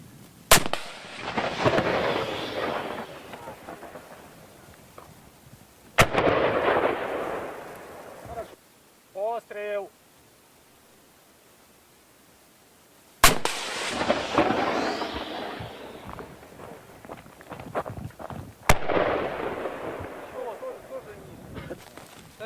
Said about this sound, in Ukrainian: натиснули спуск, все просто. Постріл!